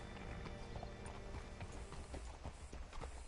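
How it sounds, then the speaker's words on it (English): Horse hooves in Red Dead Redemption 2 clip-clop in a steady rhythm with a faint mechanical rattle, fairly quiet and close, with no voices. "Hitch your horse up here."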